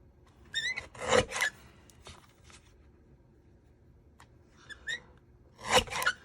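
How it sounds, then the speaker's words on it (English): A mini guillotine paper trimmer slices cardstock at a crafting table, giving a few short scraping, rasping cuts in separate bursts, close and fairly quiet, with stillness between them. "We're going to pull out my mini guillotine trimmer. And I'm just going to trim it down."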